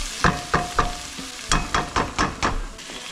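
Red onion sautéing with pork ribs in a hot pan, an even sizzle broken by about eight sharp scraping stirs of a utensil in a steady rhythm, close and fairly loud.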